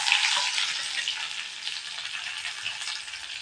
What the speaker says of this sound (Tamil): ஒரு கொத்து கருவேப்பிலை போட்டுக்கலாங்க.